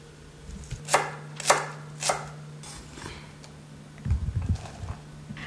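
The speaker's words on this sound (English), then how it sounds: "Next, we need about half cup of sliced shallot." Shallots being sliced with a knife on a cutting board: three distinct crisp chops about half a second apart, followed by a quicker flurry of softer cuts, close and clear over faint background hum.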